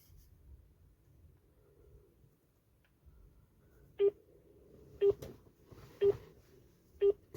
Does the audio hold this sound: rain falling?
no